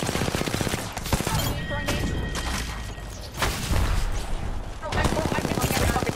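Dense, loud Apex Legends gunfire fills the scene with rapid automatic bursts and sharp shots, pausing briefly before another volley of close firing.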